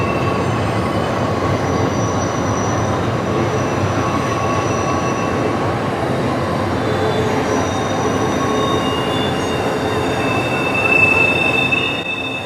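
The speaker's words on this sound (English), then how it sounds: "got another train coming around the curve here" A Norfolk Southern train rounding Horseshoe Curve near Altoona, Pennsylvania, rumbles steadily and close, with wheels squealing in long high-pitched screeches on the curve throughout.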